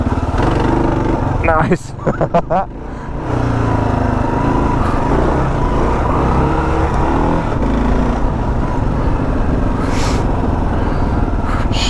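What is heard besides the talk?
Kawasaki KLR 650 motorcycle riding off road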